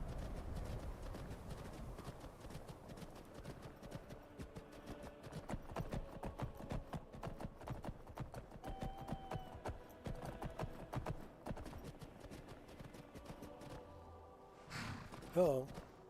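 Horse hooves clip-clop steadily in the video game Skyrim, a rapid rhythmic clatter running most of the clip at moderate level, fading near the end before a short burst, with a voice talking over it.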